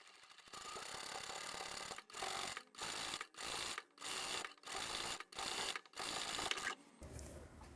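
A sewing machine stitches over the top edge of a beanie cap seam at a long stitch length, running in a steady loud whir broken by about eight short bursts with brief pauses between them.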